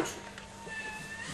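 A cat meows in a video game, a short, faint mew over a quiet electronic hum.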